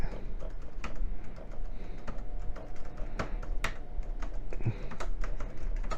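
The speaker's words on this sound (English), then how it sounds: "Now I'm typing." Someone types on the keyboard of a KAMRUI AK1PLUS mini PC. The keys click steadily and at close range over a constant hum of background noise, with no talking.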